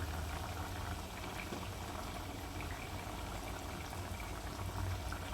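Prawn coconut curry simmers in a pan as coconut oil is poured in, a steady close bubbling and sizzling hiss that runs evenly throughout with no talk.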